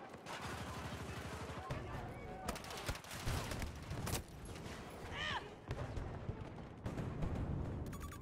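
Battlefield 2042 battle with submachine gun fire, rapid bursts of shots near and far amid steady combat noise, with a voice talking over parts of it.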